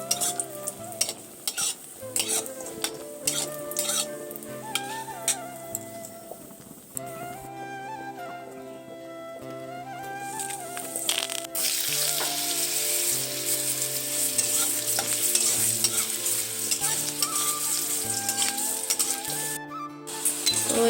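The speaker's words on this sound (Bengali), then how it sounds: "আমি বড়িগুলো ভেজে আগে তুলে নিই।" Bori, small sun-dried lentil dumplings, fry in hot oil in a pan with a steady loud sizzle. A utensil stirs and clinks against the pan throughout, and the crackling grows denser toward the end.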